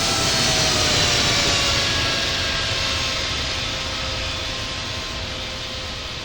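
A jet airliner in the Infinite Flight game roars down runway 34 left at Sydney Airport on takeoff, a loud, continuous engine whine and rumble that fades slightly over several seconds, with no voices.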